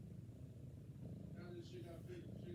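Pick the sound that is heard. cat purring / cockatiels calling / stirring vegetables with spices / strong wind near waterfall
cat purring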